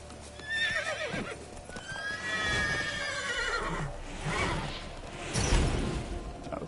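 A horse in The Witcher 3 video game whinnies loudly twice over clip-clopping hooves, with whooshes and game background sounds and no talking.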